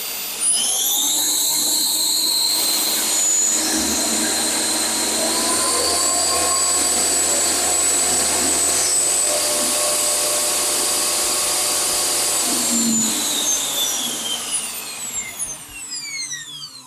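Monsieur Cuisine Plus food processor motor running after repair of a burnt-out motor, a loud, steady high whine with rising and falling tones, close up, slowly winding down at the end.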